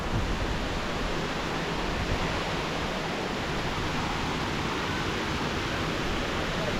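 Water pouring over a Thai waterfall, a steady broadband rush that stays even and continuous throughout, moderately loud with no speech.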